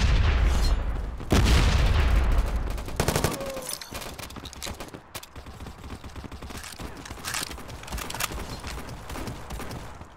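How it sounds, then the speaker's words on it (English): Gunfire and explosions from the mobile shooter Modern Ops on a factory map: a loud opening boom gives way to dense, rapid weapon fire, then sharper bursts and scattered shots that carry on steadily to the end. "Grenade out!"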